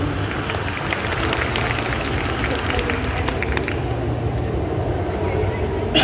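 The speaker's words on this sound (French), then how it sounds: "le public applaudit d'émerveillement" Audience clapping for the Queen of Hearts cosplayer's stage entrance at a cosplay contest at the Paris Manga & Sci-Fi Show, a dense, steady wash of applause from a large crowd that holds evenly throughout, with murmuring voices mixed in.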